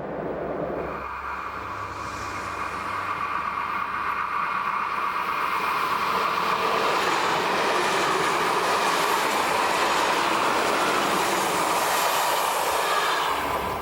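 A Swiss SBB S-Bahn passenger train rolls steadily along the tracks with a continuous loud rumble and rushing noise, wheels and carriage hum filling the background without any voices.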